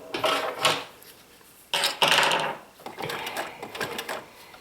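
A sewing machine zigzag-stitches a satin-stitch appliqué in three close, loud bursts of rapid needle chatter, the stitch width being changed by turning a knob between runs.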